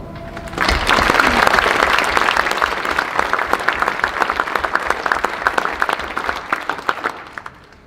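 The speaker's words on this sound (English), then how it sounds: "can we give an applause to all the teachers that helped us through elementary school?" An audience at a fifth grade recognition ceremony applauds the elementary school teachers: dense, loud clapping swells quickly, holds, then thins into scattered individual claps before fading out.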